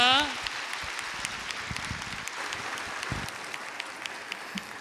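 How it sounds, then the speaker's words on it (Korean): A church congregation at a Sunday worship service claps in blessing after a prayer, a fairly even, moderate wash of hand claps with some scattered sharper claps and a low voice or two beneath. "축복의 박수 하겠습니다"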